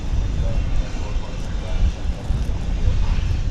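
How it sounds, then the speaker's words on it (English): A Saab airplane takes off at DFW Airport, heard as a steady low engine roar at a distance, continuous and fairly loud with little change over a few seconds. "Let's watch a Saab take off, shall we?"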